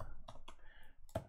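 Keys tapped on a computer keyboard while code is typed, a few separate clicks spread over a short moment, close up and fairly quiet, with no talking.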